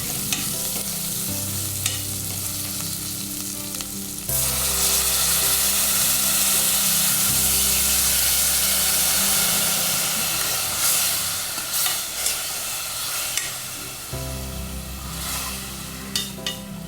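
Onion and potato masala for poori cooks in a pan with added water, giving a close, steady hiss and bubbling sizzle with a few brief stirring scrapes, and no talk.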